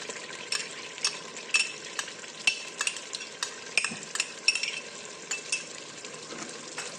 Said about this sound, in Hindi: इसे भी मिक्स कर लेंगे